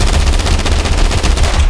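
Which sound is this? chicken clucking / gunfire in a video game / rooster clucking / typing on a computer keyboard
gunfire in a video game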